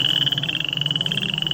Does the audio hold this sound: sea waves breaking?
no